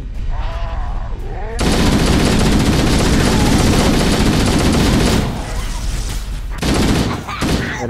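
Gunfire in Halo: The Master Chief Collection, a dense, loud burst of rapid automatic shots that lasts several seconds, then breaks off into scattered single shots, with a brief voice near the start.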